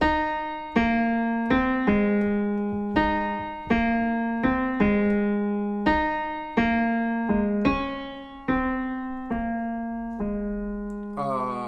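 Piano playing the ending of a song, a right-hand figure of repeated struck notes in a steady rhythm, each decaying before the next, clear and close with no talking.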